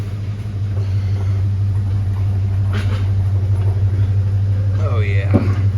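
Low, steady engine rumble as a truck is pushed over a lip while unloading an abandoned OBS Chevy, with a 1978 Silverado and a VW involved; the drone holds throughout, loud and close, with some brief clanks near the end.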